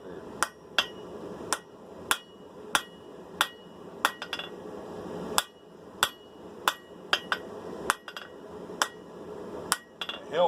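Hammer blows forging V-bit bolt jaw tongs: sharp ringing metal strikes, about a dozen irregularly spaced, fairly close, with quieter clinks and shop noise between.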